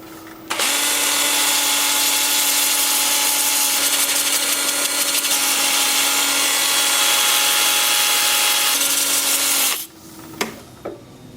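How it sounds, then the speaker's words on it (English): Sanding a butternut wood turning on a lathe, a loud, steady whirring hum with a constant tone that runs for about nine seconds, then cuts off, followed by a couple of brief knocks. "it's time for sanding"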